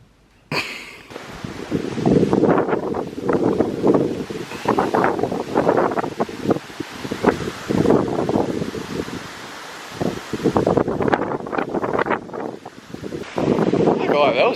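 Strong storm wind buffets the microphone in loud, rumbling gusts that roar almost continuously, with brief lulls, and rustling mixed in.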